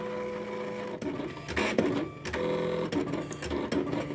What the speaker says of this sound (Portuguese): Tá aí a silhuete cortando.